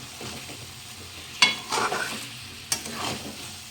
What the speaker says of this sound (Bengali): মাংসটা আস্তে আস্তে করে তেল ছাড়ছে, এটাকে অনেকক্ষণ ধরে কষাতে হবে।